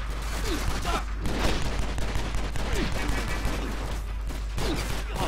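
Dense, continuous gunfire with overlapping shots and booms fills a firefight in the action video game Stranglehold, loud and close throughout.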